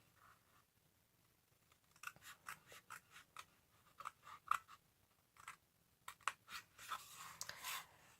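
Scissors cutting along the score line of card for a slanted pen storage container, crisp rhythmic snips and crunchy slicing strokes in several close bursts, quiet between cuts, no voices.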